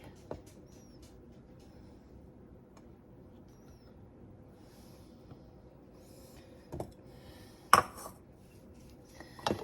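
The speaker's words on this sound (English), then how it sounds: "So I'm going to just use the 1/4 cup and scoop it in" Powdered sugar being scooped with a 1/4 measuring cup: faint, soft scraping in a quiet room, broken by a few sharp clinks of the cup against the container, the loudest near the end.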